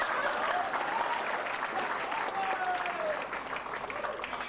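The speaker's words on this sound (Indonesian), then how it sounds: "Tepuk tangan untuk operatornya." A seminar audience in Malaysia applauds continuously at moderate loudness, a dense, even wash of many hands, with faint voices underneath.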